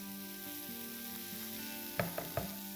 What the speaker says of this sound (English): Saute this till the onions go soft.